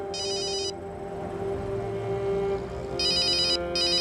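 A telephone rings with bright electronic bursts, one short ring followed by two more close together after a pause, heard over a steady background hum.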